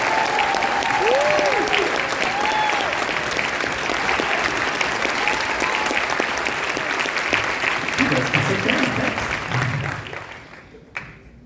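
An audience at a middle school band winter concert applauds the student musicians in steady, loud clapping that carries on for several seconds before fading out, with voices and some cheering heard through it.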